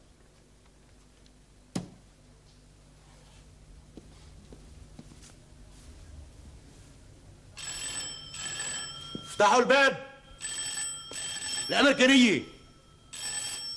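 An old-style telephone bell rings loudly in two long bursts, with a clock ticking faintly beforehand and speech around it.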